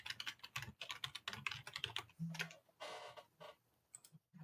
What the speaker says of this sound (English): I hate typing.